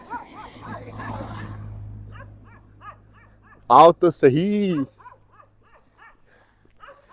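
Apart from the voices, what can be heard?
dog barking from a height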